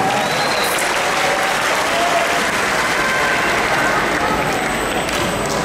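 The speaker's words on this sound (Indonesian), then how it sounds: "Boleh tepuk tangan buat semua yang ada di sini." A large crowd of volunteers at an Amanat Indonesia gathering applauds loudly and continuously, a dense wash of clapping with cheering voices mixed in throughout.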